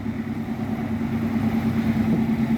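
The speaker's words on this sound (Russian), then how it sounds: "Двигатель у трактора двухцилиндровый дизель" A two-cylinder diesel engine on a Yanmar farm tractor runs steadily nearby, a loud, even low throb with no change in pace.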